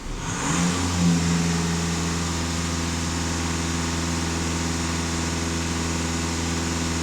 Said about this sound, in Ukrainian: Так, даю газ в пол на обертах.